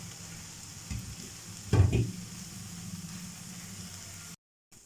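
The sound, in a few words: spices and tomatoes roasting in a pan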